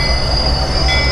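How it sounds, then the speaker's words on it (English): A passenger train with an F59PHI locomotive on the rear rolls past in a train simulator, a loud steady rumble of wheels with a sustained high metallic squeal. "to our left, we do have a passenger train that has an F59PHI on the rear"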